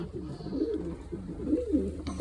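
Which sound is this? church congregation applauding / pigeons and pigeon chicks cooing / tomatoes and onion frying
pigeons and pigeon chicks cooing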